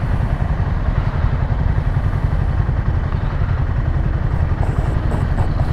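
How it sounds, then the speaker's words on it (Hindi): Motorcycle engine idling with a ticking, clattering rhythm on a mountain ride in Himachal, a loud close steady mechanical chatter with no voices over it. "टक टक कर रही है बाइक, पता नहीं क्यों"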